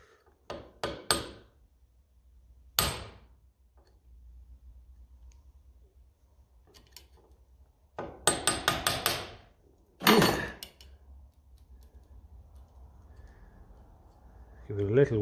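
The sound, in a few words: hammer whacking a Lucas D3A4 Ferguson distributor cap clip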